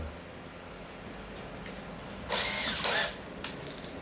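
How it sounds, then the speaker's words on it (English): A power drill in hammer action mode with a blunt wood/metal bit, fitting a door lining: a brief high whir in short bursts between quiet pauses, close and moderately loud. "I will use hammer action on my drill"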